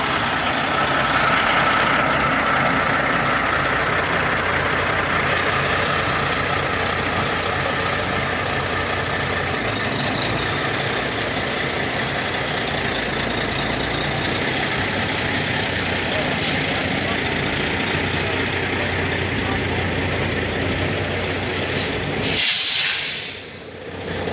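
A truck hitched to a mobile home, with hydraulically steerable dollies at the back, idles with a steady diesel rumble and hiss as it pulls forward, the noise loud and constant before dropping off abruptly near the end.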